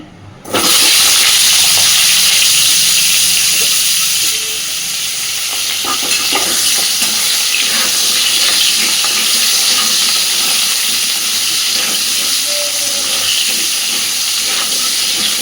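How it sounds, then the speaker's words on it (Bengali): Potatoes seasoned with salt and turmeric fry in hot oil, a loud, dense, continuous sizzle and hiss that begins abruptly and holds steady with a few faint stirring clicks underneath. "ওই তেলে এবার আমি আলুগুলোকেও ভেজে নেব।"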